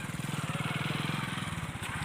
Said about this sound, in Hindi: ये देखिए बाइक से कौन आ रहा है।